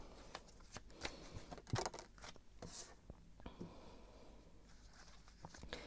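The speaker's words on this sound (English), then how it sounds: "I'm going to shuffle" Tarot cards are shuffled by hand in a quiet room, a faint, close run of soft papery riffles and taps with a few sharper flicks, no voices over it.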